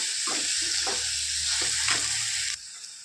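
Onions fry in a pan for a spicy Maharashtrian shev tomato curry, a steady close sizzle broken by a few soft stirring scrapes, then dropping abruptly to a quieter hiss near the end.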